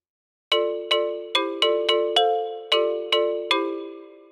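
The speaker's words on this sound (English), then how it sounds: "Let's take a listen to the xylophone with its amplitude envelope parameters set to their default values." A sampled xylophone in the Plugsound Pro software instrument, with its amplitude envelope at default, plays a short melodic run of about nine bright, struck notes, each ringing briefly and overlapping the next, clean and close with no talking.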